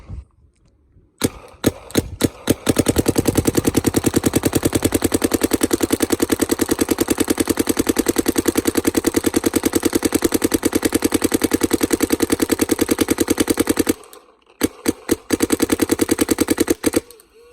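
A PE Twister CS3 paintball marker fires in ramping mode in rapid bursts, a fast mechanical popping stream that pauses briefly, then resumes.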